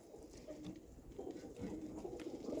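Show pigeons coo softly and repeatedly in pens on the floor, a low, murmuring warble that rises and falls in gentle phrases at close range.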